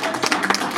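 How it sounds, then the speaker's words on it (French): Audience applause at a political conference in Kinshasa, dense clapping heard up close and filling the short moment without any voices. "On l'applaudit très très fort."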